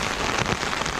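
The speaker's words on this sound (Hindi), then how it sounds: "माहौल इतना खतरनाक हुआ है बारिश का भी, और हम सुन सकते हैं" Heavy rain at night pours down on a camp high in the Himalayas near Chandrashila peak, making a loud, dense, continuous roar of drops striking surfaces close by.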